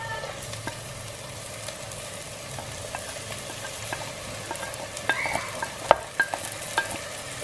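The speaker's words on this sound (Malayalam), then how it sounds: "ഇനി ഇതെല്ലാം കൂടി നന്നായിട്ടൊന്ന് വഴറ്റിയെടുക്കുക" Ginger, garlic and crushed shallots sautéing in hot oil in a pan for a Kerala karimeen mappas, a soft steady sizzle with scattered scraping stirs and a few sharper clinks toward the end.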